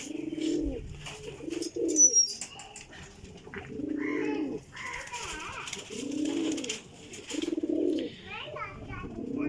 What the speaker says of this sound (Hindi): ए जनाब देसी कबूतर है पिपला वाला।